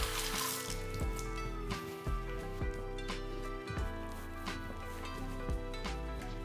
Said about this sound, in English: I'm just rinsing the cauliflower here